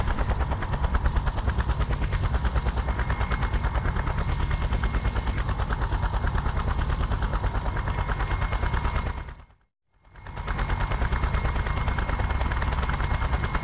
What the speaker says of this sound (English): Oh, great! Another chopper!